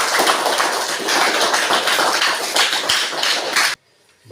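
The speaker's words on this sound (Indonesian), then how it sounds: "tepuk tangan untuk kelompok Matius" Students in a classroom give a group a burst of dense, loud applause that runs steadily for under four seconds before cutting off sharply.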